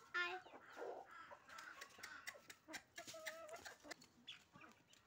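Chickens clucking at a backyard coop, with repeated short calls scattered through the clip, fairly faint and mixed with other farmyard noise.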